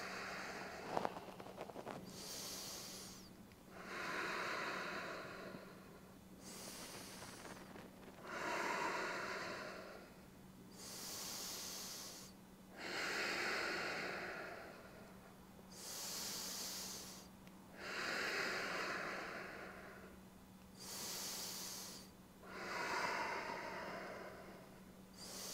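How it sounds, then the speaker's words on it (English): Slow, heavy breaths drawn through the nose and mouth while holding a side plank exercise, about six long hissing inhales and exhales in a steady rhythm, close and fairly quiet over a low hum. "Breathing."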